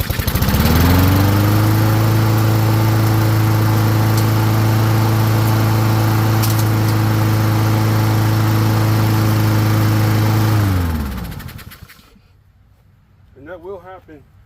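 A Honda HRR lawn mower, running without an air filter and with fuel blockage, drones loud and steady up close for about ten seconds, then winds down and stops, followed by a brief voice.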